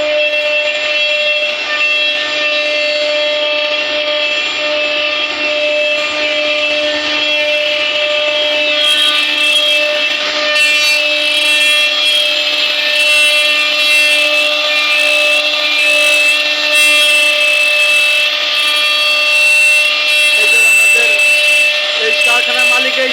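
A new woodworking machine running in a furniture workshop gives a loud, steady mechanical whine with strong constant tones for the whole stretch, and a little extra rattle near the end.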